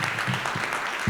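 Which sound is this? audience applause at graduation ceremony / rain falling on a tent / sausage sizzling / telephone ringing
audience applause at graduation ceremony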